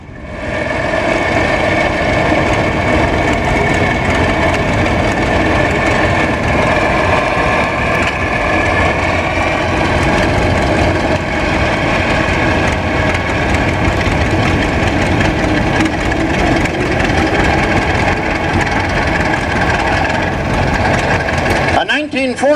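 A 1941 John Deere D tractor on steel wheels runs steadily at a club show, its low engine drone continuous and loud throughout under a public-address voice.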